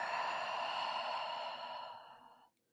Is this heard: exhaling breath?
yes